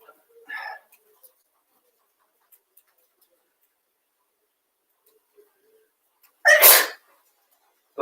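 A single loud, sharp sneeze bursts out near the end of an otherwise quiet stretch, with a brief short vocal sound heard earlier.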